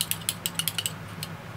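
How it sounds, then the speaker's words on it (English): A screwdriver is drawn through a handheld magnetizing tool, giving a rapid series of small, bright plastic-and-metal clicks in an uneven rhythm. The clicks are close and moderately loud, over a low steady hum. "Let's magnetize this screwdriver with a magnetizing tool"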